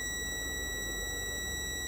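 A Fluke 87 V multimeter gives a long continuity beep while testing a fuse, a steady unbroken tone lasting throughout, alone over faint background hiss.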